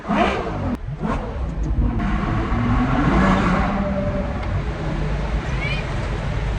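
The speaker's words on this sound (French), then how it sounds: "Ouais, par contre le V12 il chante, hein." Ferrari V12 in a racing video game, revving and singing under steady driving, a continuous mid-pitched engine roar with rising and falling pitch, someone talking over it throughout.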